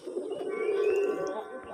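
A pair of pigeons in a loft; one coos close by in a low, throaty, drawn-out call that swells and fades, with faint birdsong in the background.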